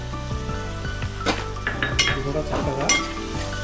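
Soaked chana dal frying in hot oil in a pan for biryani, a steady close sizzle with stirring and clinks of a metal spoon against the pot, and someone speaking briefly over it.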